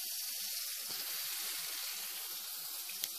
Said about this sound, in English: I'm going to heat that coil up.